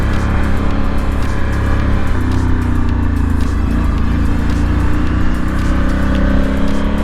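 A Honda Africa Twin adventure motorcycle's engine runs loud and close, a constant throbbing drone that swells slightly as it is ridden, mixed with wind rush.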